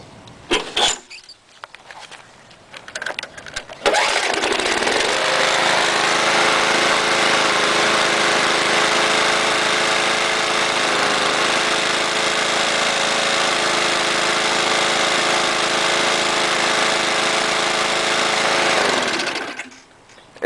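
An old lawn mower engine cranked with a few pulls, then catching and running steadily at a loud, even putter for about fifteen seconds before cutting off.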